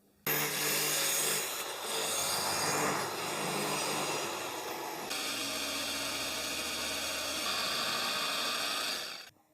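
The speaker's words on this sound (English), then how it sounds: "I'm going to cut that shape out using a combination of the traxor and the jigsaw" A track saw and then a jigsaw cut an L shape in wood for a home bar build, a loud continuous buzzing cut running about five seconds before shifting to a rougher, steady saw whine that stops near the end.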